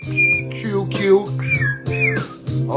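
A person whistles a simple melody, the ABC song, in clear sliding tones with short pauses between phrases, close and alone.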